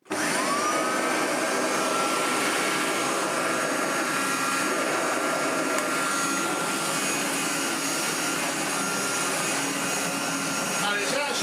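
A 1985 Hotpoint Super 3650 upright vacuum cleaner motor runs steadily, a loud, close, high-pitched whine and whoosh that holds constant throughout with no talking.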